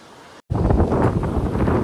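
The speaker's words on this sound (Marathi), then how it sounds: "वारा बघू शकता तुम्ही कसं आहे." Wind gusts across the microphone in a forest area near Pen, close to clean water, making a steady rumbling rush after a brief cutout at the start, with no talk.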